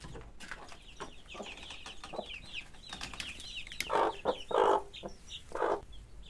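A Sebright hen clucks in low bursts while chicks peep in rapid high chirps, the cluster of sounds close and fairly quiet.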